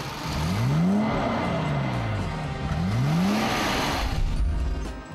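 A vintage Mercedes 220 SEb with its 120 hp short-stroke engine accelerates in two rising surges, the revs climbing and dropping between gear changes, loud and close.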